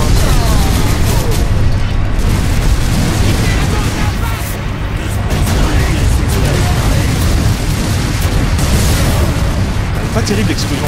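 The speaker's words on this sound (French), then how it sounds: "Pas terrible l'explosion là." A loud, rumbling explosion in the Space Marine video game, a dense roaring blast that fills the whole stretch with heavy low booming and crackling debris, sustained for around ten seconds.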